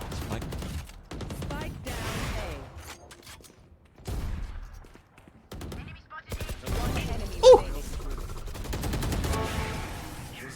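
Bursts of gunfire in a Valorant match, scattered shots and short rapid volleys with gaps between them, heard under a caster's ongoing commentary.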